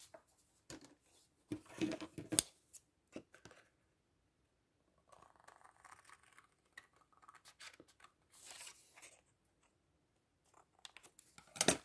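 Scissors snipping through card stock for a homemade Halloween candy box, short bursts of cutting with pauses between, close and fairly quiet, no talking.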